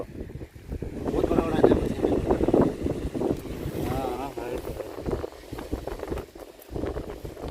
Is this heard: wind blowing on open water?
yes